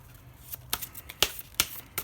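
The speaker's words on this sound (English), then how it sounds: "very easy to shuffle. I'm not going to riffle shuffle." Oracle card deck being hand-shuffled overhand rather than riffled, a run of soft papery rustles punctuated by several crisp slaps as cards fall together, close and fairly quiet, with no talking.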